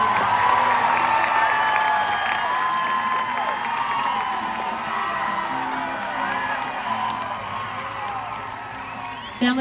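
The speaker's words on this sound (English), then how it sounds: "Give them a round of applause." A crowd at a film world premiere cheers, whoops and applauds for dancers who just performed on stage, a loud, steady roar of excited voices filling the whole stretch without pause.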